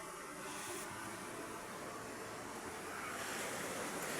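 Ocean surf washes steadily onto the shore at a beach resort, a continuous broadband roar of breaking waves with some wind buffeting the microphone throughout.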